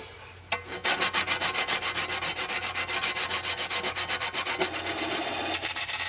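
A metal edge is worked with a file and 150 grit emery cloth in a steady run of close, rhythmic rasping strokes, about four per second, over a low background hum.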